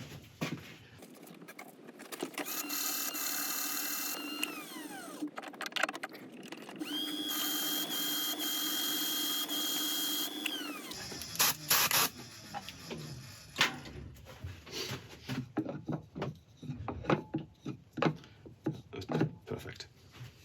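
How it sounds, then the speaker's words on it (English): A power sander runs steadily on the inside rim of a turned oak burl box in two long passes, broken by a short pause, and then gives way to scattered knocks and handling noises. "I'll just sand a bit heavier on the inside of the rim"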